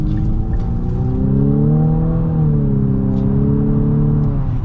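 2023 Infiniti QX50 Autograph with a VC turbo engine and CVT accelerating, a loud steady engine drone whose pitch rises and smoothly sweeps, heard from inside the cabin.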